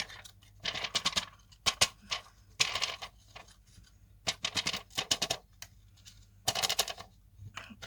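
A hand-cranked paper embossing tool feeds printer paper through, making bursts of dry clicking and ratcheting crackles separated by short pauses, close and fairly quiet.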